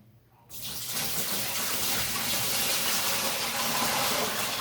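Water poured into a portable washing machine tub, beginning after a short quiet moment with a sudden steady rushing splash that stays loud and even until the end.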